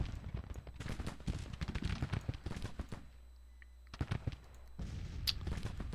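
Artillery booms and musket volleys ring out in a Civil War strategy game. The shots come as irregular bursts of sharp cracks and thuds, with a short lull midway before the firing resumes.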